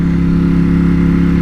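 A Ducati Streetfighter V4S motorcycle's V4 engine runs loud and close with a steady, even drone, holding a constant pitch with no voices.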